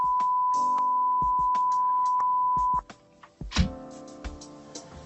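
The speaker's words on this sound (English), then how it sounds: "Johnny puts a beep over this part of the show" A single steady censor tone holds for nearly three seconds over muffled speech, then cuts out, leaving faint talk and a brief thump.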